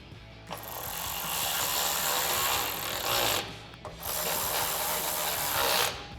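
Bolts with flat and lock washers being tightened into the factory holes of an aluminum roof rack on a 2024-2026 Toyota Tacoma, heard as a steady close ratcheting rasp that runs for several seconds with one short pause partway through.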